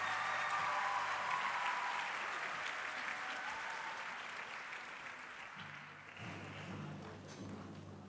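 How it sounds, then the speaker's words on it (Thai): A school concert audience at a band championship gives steady, dense applause for the Bangkok Christian College band, heard at a distance and tapering gradually while faint tonal sounds and a voice emerge near the end. "ขอเสียงปรบมือให้กับพวกเขาอีกสักครั้งหนึ่ง"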